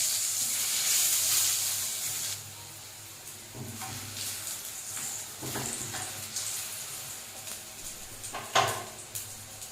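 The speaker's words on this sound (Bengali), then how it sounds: "বেগুনটা ভাজা হয়ে গেছে" Eggplant pieces frying in a covered pan for a silver carp curry, a steady hiss of sizzling oil with a few louder spits and bursts, close by and without talk.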